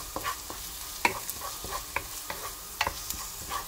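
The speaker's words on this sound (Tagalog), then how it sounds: "Okay, medyo nagbabrown na yung ating garlic. Lagay natin yung chili." Garlic and chili fry in a pan with a soft, steady sizzle, broken by sharp clicks and scrapes of stirring at irregular moments, close up with no talking.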